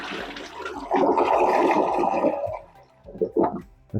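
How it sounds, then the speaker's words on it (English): Newly installed toilet giving a test flush after its handle is fitted: a rushing swirl of water that gurgles and drains off, then trails into a few quieter sputters near the end. "Test flush it."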